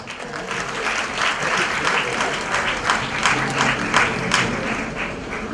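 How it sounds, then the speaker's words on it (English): An audience at a jewellery collection launch event applauds an actress taking the stage, warm continuous clapping that stays full and steady throughout, with faint crowd murmur beneath. "Please, a big round of applause for her."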